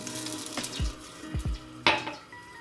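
Half a cup of cooking oil poured into a pot, splashing and sizzling, with a few soft clinks and a sharper hiss near the end, no talking.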